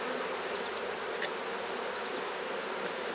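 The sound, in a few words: honey bees buzzing around an open beehive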